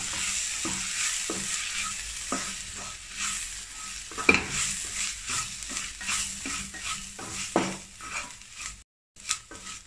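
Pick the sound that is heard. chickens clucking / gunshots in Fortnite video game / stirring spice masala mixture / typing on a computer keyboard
stirring spice masala mixture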